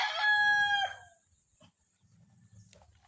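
A rooster crows once, close and loud, among backyard chickens, followed by soft clucking and quiet rustling from the flock.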